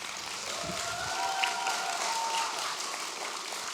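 An audience at a school year opening ceremony applauds the show's organiser, a quiet, steady wash of clapping from a crowd that continues evenly throughout.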